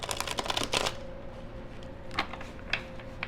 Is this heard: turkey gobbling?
no